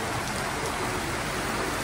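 Steady, dense rain falls in the mountains near Boquete, Panama, as an even close hiss with no breaks and no voices.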